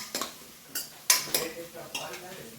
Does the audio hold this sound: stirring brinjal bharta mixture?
yes